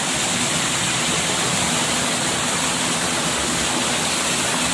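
A river waterfall in a forest roars in a loud, constant rush of falling water, close and unbroken with no voices.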